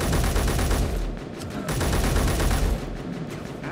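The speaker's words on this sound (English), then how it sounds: "Hearing gunfire" Rapid, continuous video game gunfire rattles loudly in dense bursts, with a brief dip before the shooting resumes, sounding like a busy firefight.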